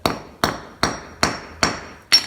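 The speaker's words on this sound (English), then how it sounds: "now we're gonna take a hammer and just set it down on the concrete or something and smash that." Hammer smashing a metal snare cable crimp laid on concrete: six sharp, ringing metallic strikes at a steady rhythm, each decaying quickly, close and loud with no talking.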